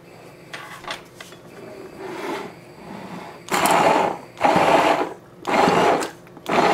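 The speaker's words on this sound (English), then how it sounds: "And now we're gonna puree this." A blender purees hummus in short bursts, three or four loud grinding pulses with pauses between them, after some quieter handling noise.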